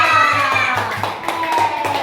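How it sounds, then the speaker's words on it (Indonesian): Classroom clapping for a student group, a short run of regular, fairly loud hand claps in a quick rhythm, close by. "Nah, kasih lagi tepuk tangan untuk kelompok 2"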